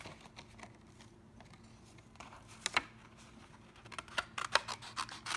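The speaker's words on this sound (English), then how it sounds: "you just practice, kind of turning the paper rather than the scissors" Scissors snip through paper at a craft table, a series of quiet, crisp clicks and cuts that grow denser and sharper toward the end, close and alone.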